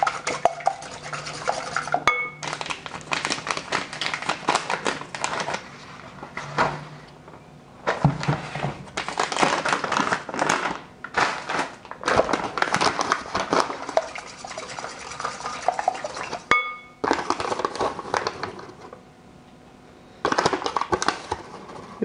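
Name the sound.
whisking in a bowl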